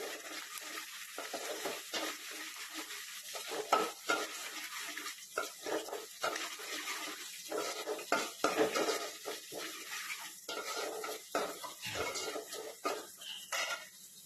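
Ivy gourds frying in a pan, stirred with a utensil that clinks and scrapes against the metal in an uneven, steady rhythm over a faint, constant sizzle, close and at moderate volume with no talking.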